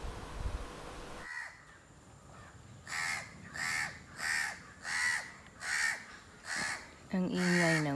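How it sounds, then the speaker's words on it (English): Crows cawing in a village in Kannur, Kerala: a run of about seven loud, evenly spaced harsh caws close by, followed by a longer rasping call, with no talk over them. "Ang ingay ng bird."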